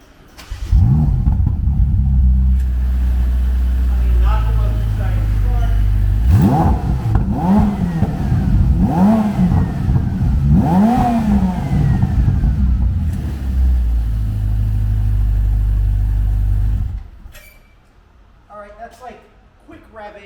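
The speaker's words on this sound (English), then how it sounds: "turbos sort of spooling up" A turbocharged Ferrari engine rumbles at a close idle, then revs in several rising and falling sweeps before cutting off abruptly near the end, with voices present over it.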